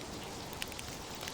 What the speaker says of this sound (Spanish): Estaba lloviznando aquella tarde